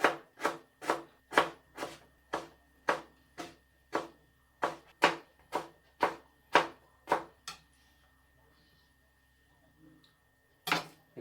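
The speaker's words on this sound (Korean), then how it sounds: "생강 2톨 정도 편 썰어서 넣겠습니다" A knife slices ginger into thin pieces on a cutting board for braised pork ribs. About fifteen crisp, regular chops ring out close by, then a pause and a single final chop.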